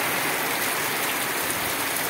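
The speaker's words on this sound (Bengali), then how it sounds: "এখন কিন্তু বৃষ্টি, একবারে গণহারে বৃষ্টিপাত আছে" Heavy rain falls in a steady, dense hiss, loud and uniform throughout a short stretch with no voices.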